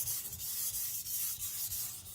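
A Tojiro Shirogami nakiri knife is stroked across a sharpening stone in quick, repeated rubbing passes, a close, soft gritty scraping with a steady back-and-forth rhythm and no voices.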